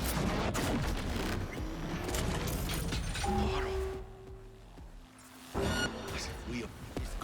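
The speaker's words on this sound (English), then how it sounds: "Look out! They got grenades!" Gunfire and grenade blasts crack and rumble during a Cyberpunk 2077 firefight, a dense chaotic barrage that dips briefly before another burst. Voices talk over the combat.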